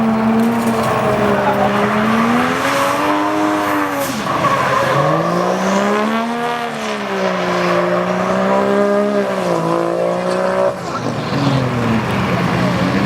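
A naturally aspirated 2JZ-powered 240SX coupe with a Zinke front end, drifting at a competition, its engine wailing and rising and falling with long tire squeal as the car slides, loud and continuous, with a faint voice underneath.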